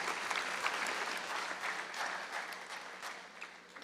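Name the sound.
audience applause at annual meeting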